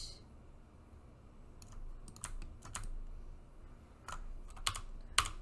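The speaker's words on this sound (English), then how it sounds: "if you press insert on your keyboard" Someone types on a computer keyboard in short, irregular bursts of crisp key clicks, quiet and close, separated by brief pauses.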